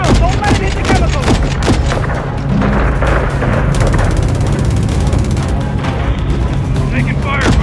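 Heavy gunfire and explosions as a helicopter is shot down in the video game Call of Duty: Modern Warfare 3, with dense booms and rattling bursts running throughout, loud and close, while voices talk over the battle.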